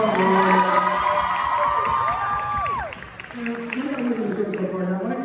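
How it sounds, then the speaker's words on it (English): A crowd at a poetry and K-pop showcase cheers and whoops over applause, with shouted voices and a loud, busy roar that dips midway and then swells again. "Let's give another round of applause for a night at tomorrow"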